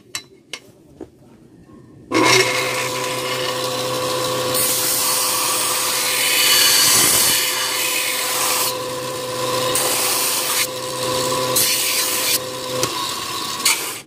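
A knife blade is hand-sanded toward a polish, a sustained loud abrasive rasp of sandpaper on steel in steady vertical strokes, following a few light taps and knocks.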